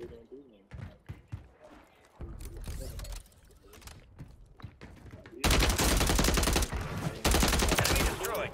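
TAQ Eradicator gunfire in Warzone 3 crackles in scattered shots, then swells into sustained loud automatic bursts, with a player's voice talking over the early shots.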